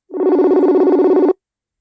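A telephone rings once, a single electronic trill with a fast warble lasting just over a second, then silence.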